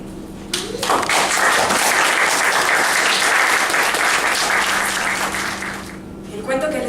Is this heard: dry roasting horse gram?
no